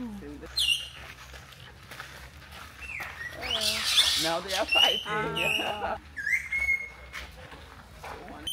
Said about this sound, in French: les oiseaux que vous entendez, c'est des perroquets noirs